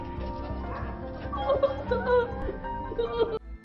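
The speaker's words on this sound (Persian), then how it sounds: "این عائله بعد 8 ماه انتظار دوباره سگشان را مییابند." A family dog reunited with its owners after eight months of waiting gives excited yips, whimpers and short barks at close range, mixed with happy human voices and laughter, before a sudden cut.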